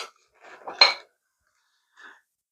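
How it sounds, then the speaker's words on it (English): A spoon scraping and clinking against a pot while stirring fig jam, a few brief metallic scrapes close by followed by a faint single clink, otherwise quiet. "One more stir, and I'm going to ladle it into these jars."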